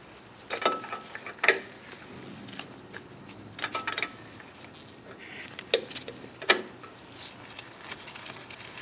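Metal wrench clicks and ratchets while a brake wheel cylinder fitting is loosened, a handful of sharp, separate clanks and ticks spread over quiet background noise.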